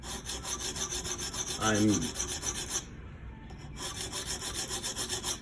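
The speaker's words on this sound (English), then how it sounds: "reprofiling this bevel a little bit" Steady rhythmic rasping of an abrasive stone stroked across the bevel of a Hinderer Spanto knife on a guided sharpening system, repeating strokes that pause briefly mid-way, with a short spoken word early on.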